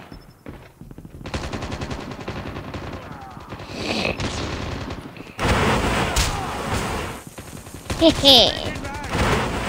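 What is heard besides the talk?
gunfire from a gun in the video game Call of Duty Mobile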